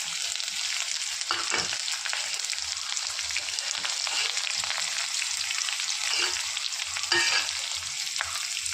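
Onions fry in a pan for upma, a close, steady crackling sizzle with occasional scraping stirs, carrying on alone without any voices.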